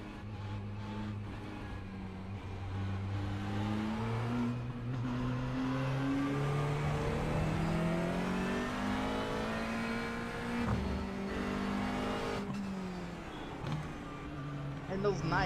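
A McLaren race car engine in iRacing drones and revs steadily, its pitch climbing and dipping through gear changes, with someone talking over it throughout.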